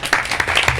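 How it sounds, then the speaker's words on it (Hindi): A religious gathering's audience breaks into a brief burst of loud, dense clapping, close and energetic, lasting under a second. "एक बार जोरदार ताली बजा।"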